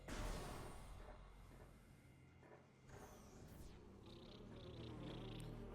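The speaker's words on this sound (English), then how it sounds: "Alright, and the war wasps are here." War wasps in Metroid Prime Remastered give a steady, droning buzz that lasts throughout, mixed with game ambience and faint higher whines, with no talking over it.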